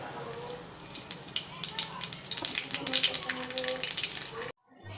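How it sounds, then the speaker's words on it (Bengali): Nigella seeds and dried red chillies crackle and sizzle in hot white vegetable oil, a steady close spitting and hissing with scattered sharp pops, ending abruptly in silence. "তেল গরম হয়ে গেছে, তেলে দিয়ে দেব কালো জিরে আর শুকনো লঙ্কা ফোড়ন"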